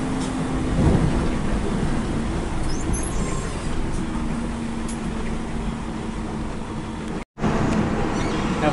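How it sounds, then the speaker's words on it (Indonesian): Heavy rain pours steadily with rumbles of thunder, heard from inside a vehicle at the Ciawi toll gate, a dense continuous hiss with low rolling booms and a brief dropout near the end. "Hujan deras."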